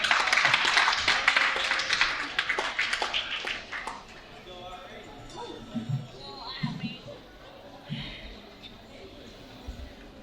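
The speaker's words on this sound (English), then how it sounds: "Give a clap." An audience at a celebration applauds a guest, with a burst of bright, dense clapping at the start that thins out within a few seconds as speech and scattered knocks take over.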